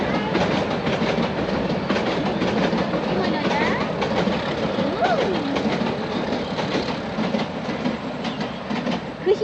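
A train arrives with rumbling carriages and rhythmic clickety-clack of wheels, steady and fairly loud, with faint squeals and a voice chattering over it.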